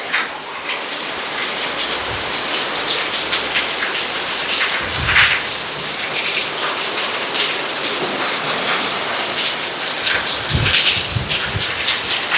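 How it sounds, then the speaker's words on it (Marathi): Heavy monsoon rain pours down right beside a forest next to a house, a steady dense hiss of drops on the ground and foliage that carries on without a break and without voices. "खूप जास्त वाढला आहे पाऊस"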